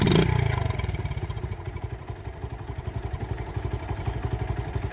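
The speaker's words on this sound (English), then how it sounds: "Can't beat the sound of a CT70 with a fully rebuilt motor." A restored Honda CT70 with a fully rebuilt motor and new exhaust fires up with a brief burst, then settles into a rapid, even, putting idle, close and steady.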